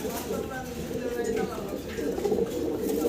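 Fancy pigeons in a pair coo softly and repeatedly at close range, the low throaty calls running under someone speaking.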